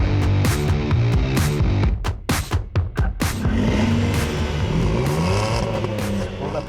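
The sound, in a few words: Renault Kwid car engine revving before drag race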